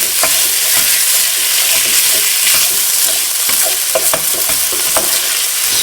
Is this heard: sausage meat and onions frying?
yes